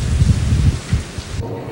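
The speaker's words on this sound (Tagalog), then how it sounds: "pitch black na yan sa lakas ng ulan na hinalong malakas na hangin" Heavy typhoon rain pours in a loud, dense roar driven by strong wind, with gusty low rumbling and no talking, before the sound drops away suddenly near the end.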